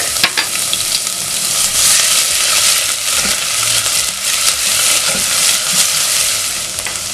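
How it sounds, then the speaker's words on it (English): One small onion and garlic hit hot oil in a pot over high flame, giving a loud, steady sizzle and frying hiss with occasional stirring scrapes, close up and without speech. "When the oil is ready, I'm going to add in one small onion together with some garlic."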